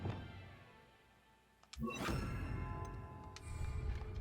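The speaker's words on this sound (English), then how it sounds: "데미지를 주지 않지만 무언가 적을 바닥에 세게 떨어뜨리는" The Descendo spell slams a training dummy to the ground in Hogwarts Legacy: a quiet hum, then one sudden heavy thump with a ringing magical shimmer that trails off into a low rumble.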